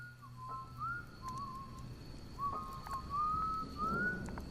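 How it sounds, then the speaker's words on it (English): A slow, wavering whistled tune drifts in soft phrases over a quiet, hushed background, sounding eerie and somewhat distant. "A slow, eerie tune carried through the trees surrounding his camp."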